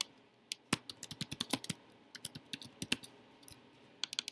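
Rapid clicking while a listing presentation is edited on a computer, a fast irregular run of sharp, close clicks with short pauses between bursts.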